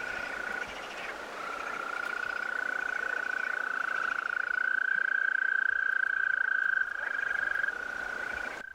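Male green toads gathered at a gravel-pit pond near Strasbourg in spring give a long, sustained trilling call that swells slightly in loudness, with fainter trills from other toads in the background.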